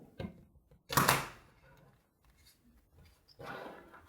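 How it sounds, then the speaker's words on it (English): A deck of cards is shuffled by hand in a tabletop single-player dinosaur survival game, giving a loud burst of riffling followed by softer rustles and a second quicker riffle near the end. "Give the deck a good shuffle."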